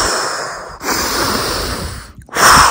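A breathing drill for hard training: a forceful double sniff through the nose, then a big, loud exhale through pursed lips, close and breathy, with a brief pause before another sharp intake.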